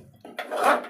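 A spoon scraping and clinking in a pot as sweet chakkara pongal is stirred with ghee and cardamom powder, one short close metallic swirl that builds and then fades.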